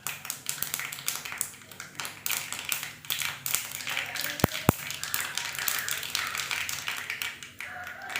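Mustard seeds pop in hot coconut oil in a pan, making a rapid, irregular crackle of sharp clicks close by that continues steadily, with a couple of louder snaps partway through.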